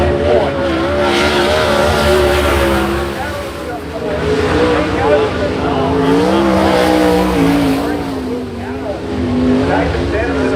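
Sprint cars race at Avalon speedway, their engines roaring loud and continuous with rising and falling pitch as they circle the track, heard under an announcer's commentary.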